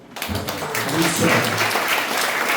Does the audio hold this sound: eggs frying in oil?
no